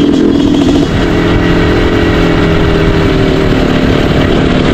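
Steady, loud drone of a Yamaha NMAX scooter engine running close by, a constant buzzing hum with a slight dip in pitch early on and no clear revving.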